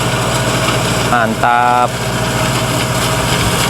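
A steady tractor engine drones nearby throughout, with a brief harmonic whine in the middle and a short spoken word over the running motor.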